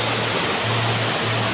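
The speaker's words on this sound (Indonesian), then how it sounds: "Sungainya deras juga sahabat tuh." A fast-flowing, somewhat murky river in a farming village in Garut rushes in a dense, loud broadband roar, steady and close with no voices.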